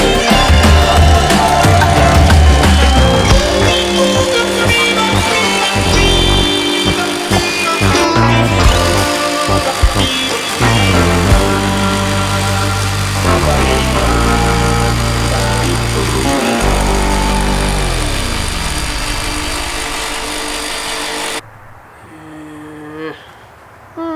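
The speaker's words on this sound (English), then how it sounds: "I tried a scraper blade on the sawzall." Loud, harsh buzzing of a reciprocating saw cutting spray foam insulation in a school bus continuously for about twenty seconds, then stopping abruptly into near quiet.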